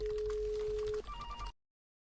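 A telephone rings while calling a personal mobile: a steady single-tone ring for about a second, then a shorter electronic ringback warble before the line clicks off into silence.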